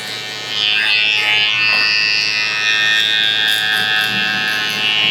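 Electric shaver buzzing steadily while cleaning up a crop fade haircut, a close, continuous high whine that starts after a short quiet moment and holds for several seconds with no talking.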